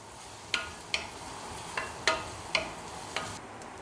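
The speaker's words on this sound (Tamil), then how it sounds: "கறிவேப்பிலை இலைகள் நல்லா இதெல்லாம் வதக்கணும்." Garlic, curry leaves and onion sauté in a pan with a soft, low sizzle. About six sharp taps or scrapes of a spatula come at irregular intervals, and there is no talk.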